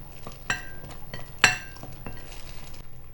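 Spoon clinks against a bowl while vinegar and marinade ingredients are stirred together for zinger burger chicken, a few sharp metallic taps standing out over softer scraping, close and moderately loud with no talking.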